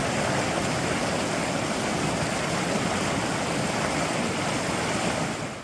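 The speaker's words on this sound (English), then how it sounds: "crisscrossing the Shinumo Creek" Shinumo Creek in the Grand Canyon rushes steadily during a creek crossing, a loud, continuous broadband wash of flowing water that stays even from start to finish with no voices.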